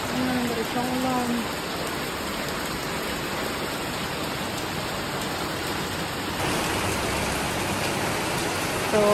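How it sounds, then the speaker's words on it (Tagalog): Continuous heavy rain drenches a countryside vegetable plot during a storm, a steady broadband wash of downpour that stays unbroken and grows a little fuller partway through, with no voices. "Ulan na naman. Diretso ang ulan."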